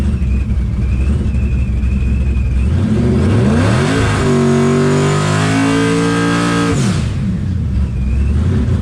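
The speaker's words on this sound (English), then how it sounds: "This thing leaves extremely hard and extremely rowdy." A methanol-fuelled car running 30 psi of turbo boost launches hard on a drag pass, its engine roaring loud and close from inside the cabin and rising quickly in pitch through the gears before the note drops back.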